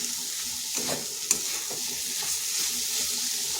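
Cauliflower and potato curry stirred in an open pan, a steady close sizzle with a few light spoon scrapes and one sharp clink.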